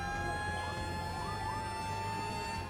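A fire truck siren wails continuously at a distance, its rising and falling tones sitting under a steady rumble of traffic and engine noise, with no talking.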